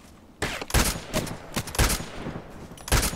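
Shots from a TKPD Storm rifle in a video game crack out one at a time with short gaps between them, several loud, close single reports.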